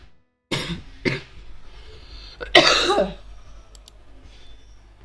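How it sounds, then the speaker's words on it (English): Someone coughs close by, first in two sharp separate coughs and then in a longer, harsher burst with some throat clearing. Quiet pauses fall between them, and a few faint clicks follow. "I don't think I've ever had this much of a hatred towards coughing."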